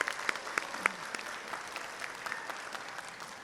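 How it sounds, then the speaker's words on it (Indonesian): Audience applause at the 25th graduation ceremony of a nursing academy, a steady spread of many hands clapping with a few sharper claps standing out near the start, filling the hall without voices. "Beri aplaus untuk angkatan 25."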